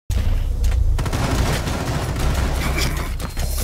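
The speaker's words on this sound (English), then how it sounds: "This shotgun is not great at range." Shotgun fire in a video game, a dense burst of loud blasts and booming impacts packed together over a few seconds, with no gaps of quiet between them.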